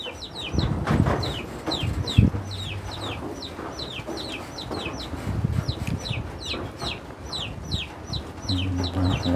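Three caged adult roosters cluck steadily in a rapid, repeated rhythm, with a brief crowing note near the end, close and lively over faint background murmur.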